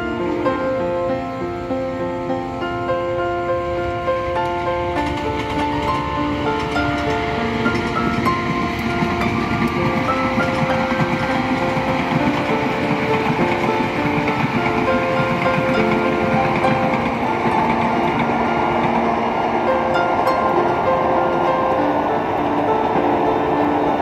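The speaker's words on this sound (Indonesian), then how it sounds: "kereta api teman-teman. Ada yang melintas dari arah selatan teman-teman, dari arah stasiun Lawang." A train crosses a hidden railway bridge near Lawang station, arriving from the south. The loud, steady rumble and rhythmic clatter of the wheels and cars carry on unbroken for the whole stretch.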